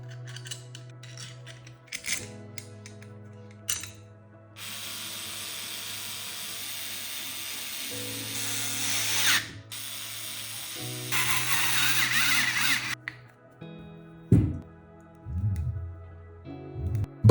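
Bolts are tightened on the top cover of a homemade generator with bursts of power-tool whirring and ratcheting, separated by short pauses and clinks of metal.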